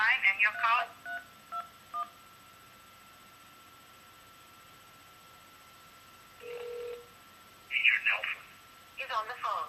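Phone keypad dialing an office extension: a quick run of DTMF tone bursts at the start, a steady tone midway, then more tone bursts near the end, all fairly faint over a low hiss.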